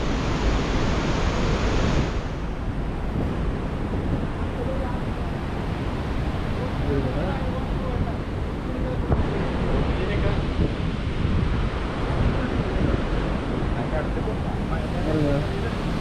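Strong sea wind roars steadily at the shore near a large Thiruvalluvar statue, carrying broadband gusting rush and crashing surf throughout, with a voice speaking intermittently over it.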